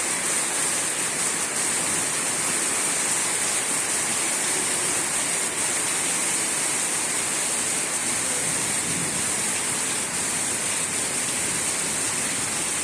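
Heavy rain pouring steadily as a dense, constant roar with no breaks, loud and close, with no voices over it.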